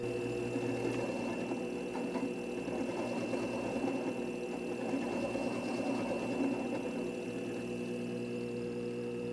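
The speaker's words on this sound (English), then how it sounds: "This is final polishing." A faceting machine runs steadily while final-polishing a fluorite gemstone, giving a continuous whirring motor drone with a constant hum throughout, fairly close and at an even level, with no talk.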